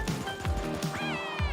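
In the video game Super Animal Royale, a cat gives a few short, bright meows in quick succession, close and clear over a busy game soundscape.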